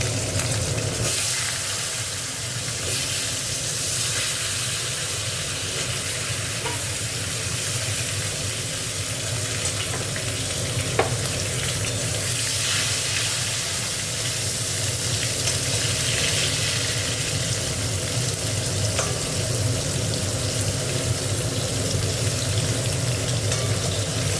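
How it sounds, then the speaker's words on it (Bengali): Potatoes fry in hot oil in a steady, continuous sizzle that holds at an even level, with a few faint clicks and no talk. "আলুগুলো একটু ভেজে নেবো।"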